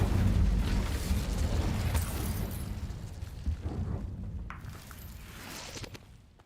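Incendio fire spell from Hogwarts Legacy erupts with a loud, roaring burst of flame that surges at the start and then slowly dies away into a fading crackle, heard alone.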